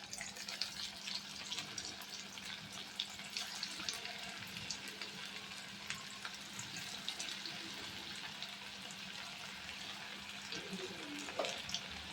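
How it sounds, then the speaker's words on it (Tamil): Chicken pieces frying in hot oil, a steady, crackling sizzle that holds evenly throughout at close range, with no talking. "கொஞ்சம் கொஞ்சமாக போட்டு நம்ம வறுத்து எடுத்துக்கலாம்."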